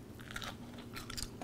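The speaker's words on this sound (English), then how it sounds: "You hear the crunch?" Crunchy air-fryer pizza being bitten and chewed up close, with two bursts of crisp crackling separated by a short pause and no talking.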